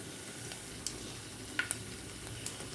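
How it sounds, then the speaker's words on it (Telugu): Fenugreek and cumin seeds fry in oil in a pan, a faint steady sizzle broken by a few small sharp pops and crackles. "ఇప్పుడు అందులో కొంచెం మెంతులు ఇవి కొంచెం ఫ్రై అవ్వాలా"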